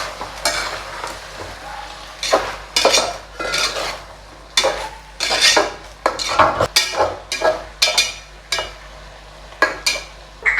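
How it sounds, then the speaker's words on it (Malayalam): Chopped tomatoes tumble into a pot of Kerala sadya-style sambar and are stirred in, giving a run of irregular scraping, clinking spoon strokes and soft wet sizzles, close and fairly loud with no talking. "ഇനി നമുക്ക് അരിഞ്ഞ് വെച്ചിരിക്കുന്ന തക്കാളി ഇട്ട് കൊടുക്കാം"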